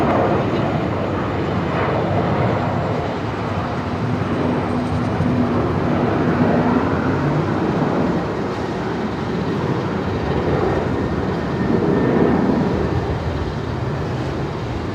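A Rex Saab turboprop idles at Brisbane Airport at twilight with only its right-hand engine running, a steady broad roar with a faint whine layered over it, sustained and fairly distant.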